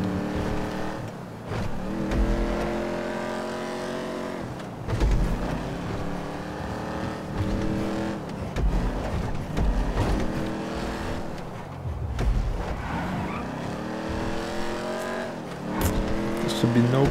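Engine roar of racing cars in GTA 5 on PS5, a steady revving drone with gear shifts and passing surges throughout, loud and continuous, with occasional tire squeal mixed in.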